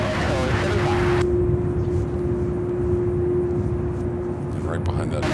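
A Delta airliner comes in to land at Louisville International Airport, its engine roar steady and fairly loud throughout, with a strong tonal whine running under it and a change in character after the first second.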